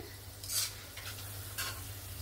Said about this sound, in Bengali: এরকম আঁচটা কম করে ভাজলে কি হবে, ভেতর থেকে সুন্দরভাবে ভাজাটা হবে।